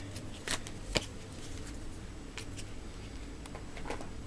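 Tarot cards being shuffled by hand, soft riffling and flicking with a few sharper snaps, close and quiet with no talking.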